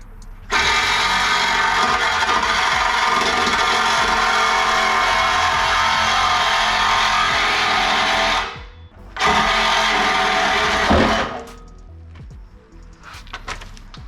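A power saw cuts through a rusty car exhaust pipe during a Ford Focus ST catback exhaust install, giving a loud, close, sustained buzzing whine that stops briefly, resumes, and then cuts off, leaving quiet clatter.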